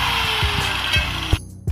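A power tool cuts a metal pipe for a motorcycle G-roller stand, a loud close grinding whine with rapid rhythmic thumps that ends abruptly with a sharp knock.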